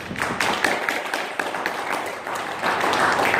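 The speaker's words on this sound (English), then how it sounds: "A big round of applause." A big round of applause at a Toastmasters club meeting after the general evaluation: a steady wash of many hands clapping from a small room audience, swelling slightly toward the end, with no voices over it.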